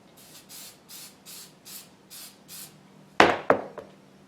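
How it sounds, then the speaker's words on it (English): An aerosol can held upside down sprays in a series of short, even hissing bursts, about seven in a row, followed by two sharp loud knocks of something being set down nearby. "You're gonna turn this stuff upside down, spray it till you don't see any more coming out."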